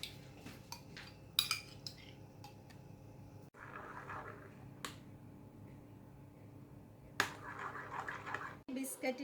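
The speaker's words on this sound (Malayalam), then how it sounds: "ഇനി നമ്മുടെ മെയിൻ ഇൻഗ്രീഡിയൻ്റ് ആയ ക്രീം ചീസ് ഇതിനകത്തോട്ട് ചേർക്കണം" Cream cheese is spooned into a cheesecake mixing bowl, with metal utensils clinking and tapping against the bowl in scattered sharp knocks over a steady kitchen hum.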